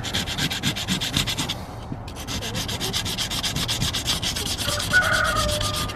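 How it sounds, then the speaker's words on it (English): Fine sandpaper rubbing along a secateurs blade in steady, close back-and-forth strokes with a brief pause partway through, and no voices. "Some fine sandpaper and just clean the blade."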